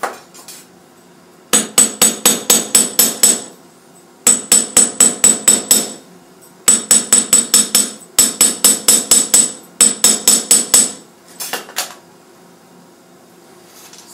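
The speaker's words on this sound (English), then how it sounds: "hammer." A hammer strikes a metal surface to texture handmade jewellery. Five quick bursts of sharp, ringing blows sound close and loud, each holding about five to seven rapid strikes, with brief pauses between them and no talk.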